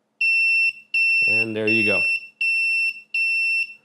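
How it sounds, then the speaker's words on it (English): Loud electronic buzzer on a DigiSpark ATtiny85 plane/drone finder sounds in repeated steady beeps after its countdown timer runs out, with someone talking briefly over one of the tones. "the buzzer is right there"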